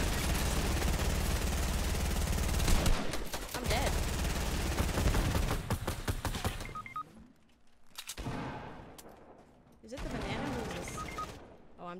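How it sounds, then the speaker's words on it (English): Gunfire in Fortnite Battle Royale comes as dense, loud bursts of rapid automatic shots, then breaks off into shorter volleys with gaps between them, while players talk over it. "Who's shooting me?"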